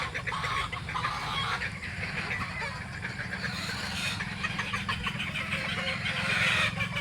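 Hens and young late-born stags on a farm clucking and calling together in a steady, close chorus, with a louder burst of calls near the end.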